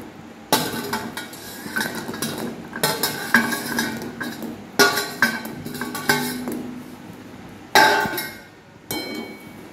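Gulab jamun being stirred in sugar syrup in a metal pot, with sharp clinks and scrapes of a spoon against the vessel coming in several distinct bursts, fairly close and with no talking.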